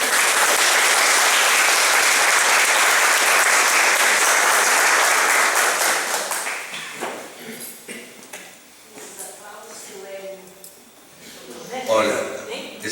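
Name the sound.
audience applause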